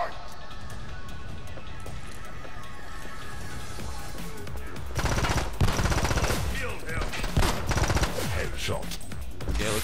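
Uzi submachine gun fire in The Club video game: rapid automatic bursts that get louder and denser in the second half, over continuous game background noise.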